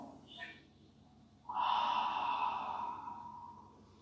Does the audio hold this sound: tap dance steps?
no